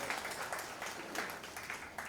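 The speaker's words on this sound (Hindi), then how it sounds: "जोरदार तालियां अन्नू मलिक साहब के लिए।" An audience at an anniversary celebration for a sanitary pad bank applauds for Annu Malik. The clapping is quiet and somewhat distant and comes in light uneven bursts that fade a little toward the end.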